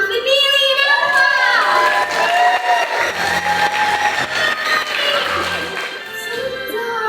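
A school audience at a Matilda musical production cheers and shouts loudly, with high children's voices ringing over a dense crowd roar that stays strong before easing slightly at the end.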